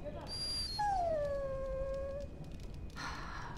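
In Dragon Age: Origins, a dog gives a long descending whimpering whine, close and clear, with a short higher yelp before it and quieter game sounds and a brief rustle after.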